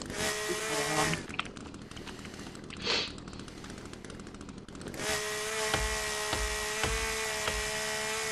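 A chainsaw in the video game The Forest revs and cuts through trees, a steady buzzing whine that drops and surges again, with a brief lull before returning at full drone.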